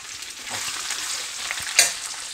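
Onion, green chilli, garlic and curry leaves are tempered in hot oil for a lunch-box dish, giving a steady, close sizzle and crackle throughout with one sharper spit near the end.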